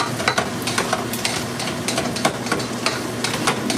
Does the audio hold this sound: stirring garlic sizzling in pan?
yes